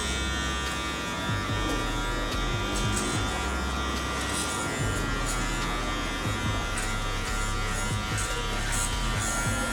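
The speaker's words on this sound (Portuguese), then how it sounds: "Eu entro com a máquina, com a ponta da máquina e depois eu puxo para fora." Electric hair clipper cutting hair for a mid fade, a steady close buzz with a low motor hum, slightly changing as the blade presses in and pulls away, running continuously without talk.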